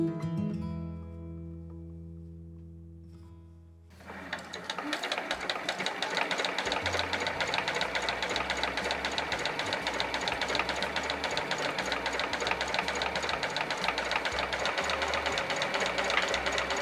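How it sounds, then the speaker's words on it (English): Sewing machine running a straight edge stitch close to the fabric edge, a fast steady mechanical chatter starting after a few seconds of tonal music and continuing loud and even to the end. "I'll sew with straight stitch, and it's going to be an edge stitch as close to the edge"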